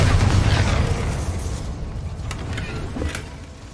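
The Confringo blasting curse goes off in Hogwarts Legacy, a loud, close explosion with a booming roar that slowly fades, followed by a few fainter pops and crackles.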